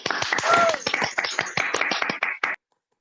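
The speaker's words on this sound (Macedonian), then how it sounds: "Ако може еден аплауз за извидниците" An audience at a scout volunteer event claps in applause, a dense burst of hand claps lasting about two and a half seconds before it stops abruptly.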